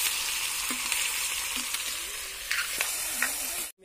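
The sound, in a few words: onion, chilli, garlic, ginger and tomato frying in oil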